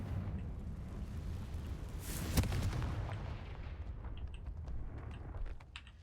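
Confringo blasting spell cast in Hogwarts Legacy on PC, a sharp explosive burst rising out of a low rumbling game ambience and fading into scattered crackles.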